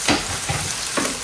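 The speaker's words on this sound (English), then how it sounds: "this is going to sizzle a bit" Seasoned boneless skinless chicken thighs sizzle loudly in a pan, a steady close frying hiss broken by a few sharper bursts as the meat shifts.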